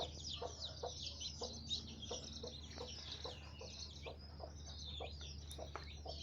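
Newly hatched Aseel chicks and a hen on a farm, with rapid high peeping repeating over a steady low hum, fairly faint and close by.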